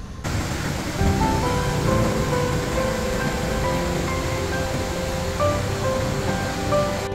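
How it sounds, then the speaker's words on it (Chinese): Goðafoss waterfall in northern Iceland roars as a steady, dense, close wash of falling water, with faint sustained tones layered over it and no talk. "开车仅40分钟就到达了众神瀑布"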